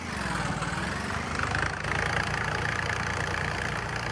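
A tractor engine in Farming Simulator 22 during a tractor tug-of-war contest, running steadily with a low, droning idle-like rumble throughout, loud and close, with no talk.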